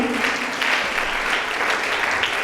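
A church congregation applauds steadily and loudly in praise, a dense, continuous wash of clapping with no break from start to finish.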